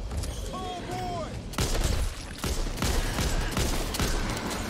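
Rapid, loud gunfire from an LMG machine gun in the Back 4 Blood video game, dense overlapping bursts that swell after a brief lead-in and keep hammering steadily to the end.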